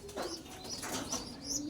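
Soft, repeated cooing from pigeons kept for breeding and racing, heard close and steady over light background noise, with a faint flutter of wings.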